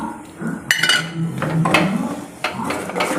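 A spoon stirs jaggery into sabudana kheer in a metal pot, giving a run of close, uneven scrapes and clinks against the pot. The clip is brief, with no voices.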